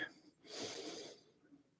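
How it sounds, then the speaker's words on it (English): A single slow, deep inhale through the nose during a quiet meditation, heard close and hushed as a soft airy rush that swells and then fades. "Breathing into my belly."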